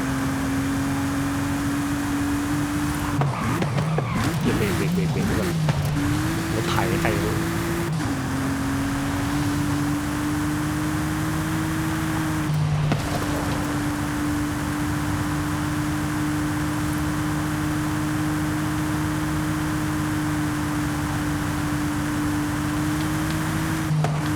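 Bentley Continental Supersports W12 engine in Forza Horizon 5, a steady humming drone that holds one pitch, briefly drops and rises with a few rough gear-change bursts early on, then stays constant and loud.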